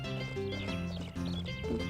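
A horse in the video game Harvest Moon: A Wonderful Life answers a call with a short, close whinny and snorts over continuous layered game music.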